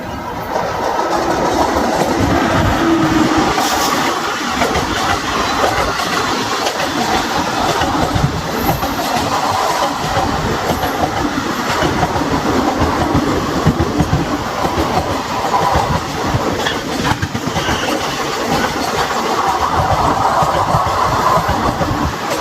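Tamil Nadu Express 12621 passenger train from Chennai to New Delhi, heard from inside a coach as a continuous loud rumble with repeated clickety-clack of wheels over rail joints and occasional squeals.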